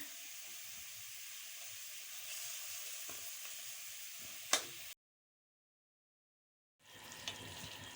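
Chicken pieces in tikka masala with yogurt sizzle steadily in a pan as the yogurt liquid cooks off, a soft continuous hiss with a brief clatter, then a sudden gap of silence before the sizzle resumes.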